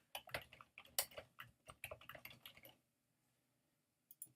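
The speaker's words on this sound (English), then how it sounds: "Type them in." Quick, light keystrokes tap on a computer keyboard in a rapid burst, then stop, leaving near silence and a couple of final clicks.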